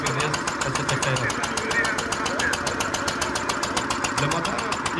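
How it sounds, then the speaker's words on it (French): An old International LB stationary engine runs at a steady idle, with rapid even ticking firing beats over a low mechanical rumble, close and continuous with no voices. "Le moteur qui est utilisé, c'est un engin stationnaire, donc c'est des moteurs qui étaient utilisés dans le dernier siècle"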